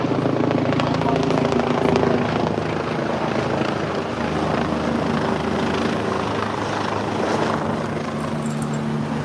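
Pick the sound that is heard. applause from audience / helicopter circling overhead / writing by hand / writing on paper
helicopter circling overhead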